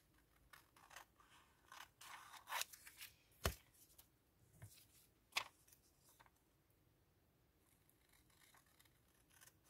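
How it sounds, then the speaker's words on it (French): Scissors snip around paper for a scrapbooking embellishment, giving soft, scattered cutting rustles with a couple of sharper snips, close and quiet, no voices. "Donc là, on va couper tout autour."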